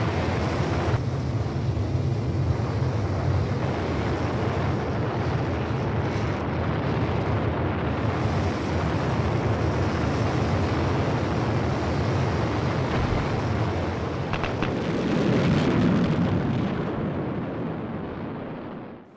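Curiosity rover's descent stage firing its landing engines to slow the Mars landing, a continuous loud roaring rumble that holds steady throughout and swells briefly near the end before fading.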